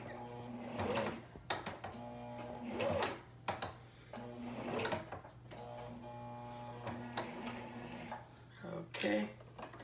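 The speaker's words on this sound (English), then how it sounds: "I'm gonna sew across it" A sewing machine stitching across T-shirt fabric for a doll outfit, quiet bursts of rapid mechanical whirring broken by short pauses and clicks, with people talking softly over it.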